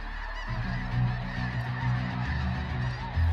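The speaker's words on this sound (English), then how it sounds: "The deafening sound of a flock and the sheer number of birds make these hunts so unique" A large flock of snow geese honks continuously at a hunt in Jonesboro, Arkansas, a dense, loud overlapping chorus of calls that swells near the end.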